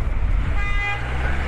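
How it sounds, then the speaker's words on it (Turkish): A car horn gives one short honk in street traffic, heard amid a low rumble of road and engine noise. "Kornaya basan kim ya?"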